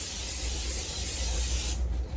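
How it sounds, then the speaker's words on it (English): A can of cooking spray hisses in one continuous burst for nearly two seconds, greasing stainless steel cookie sheets for whoopie pies, close and fairly quiet, then cuts off abruptly. "I always grease my stainless steel cookie sheets when I bake these whoopie pies."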